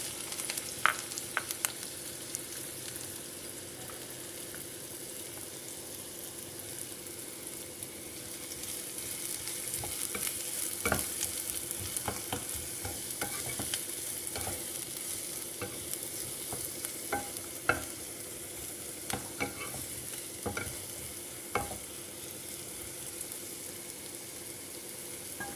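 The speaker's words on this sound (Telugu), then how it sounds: "సేమ్ ఇదే నూనెలో మనం ఉల్లిపాయలు వేయించుకోవాలి." Sliced onions and green chillies fry in oil, giving a low continuous sizzle broken by frequent scraping and clicking stirs of a spoon against the pan.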